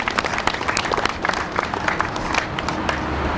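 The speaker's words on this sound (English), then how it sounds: "Please give them a round of applause." Outdoor crowd at a 9/11 memorial dedication in New Paltz applauds police and fire first responders, scattered but steady clapping at moderate distance, fairly soft.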